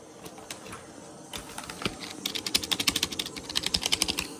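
Rapid keystrokes on an Azio gaming keyboard, Korean model, starting as scattered taps and building into a dense, fast typing burst, close and clear with no talk.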